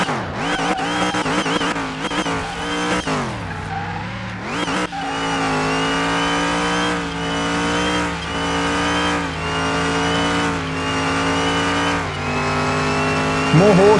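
A 1957 Chevrolet Bel Air and other cars race, with engines revving up and down through gear changes and a brief tire squeal, the loud motor drone running continuously.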